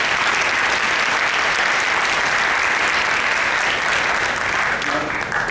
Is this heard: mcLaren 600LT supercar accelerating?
no